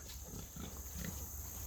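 Pigs grunting in a wooded silvopasture paddock, low rough grunts repeating over steady outdoor noise, fairly close and moderately loud, with no talking.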